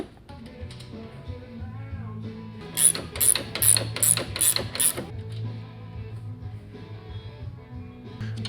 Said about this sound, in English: Loosen the upper shock bolts and save the hardware.